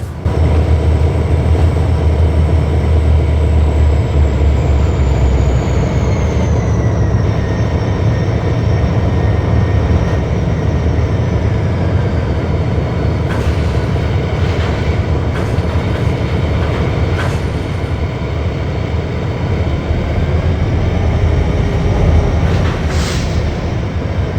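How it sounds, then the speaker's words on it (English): A video-game train in Rails of Highland Valley rolls along rails with a continuous loud rumble and faint rhythmic clatter, with a slow tonal whine drifting downward throughout. "Well, Mordecai, I've got a train to take now."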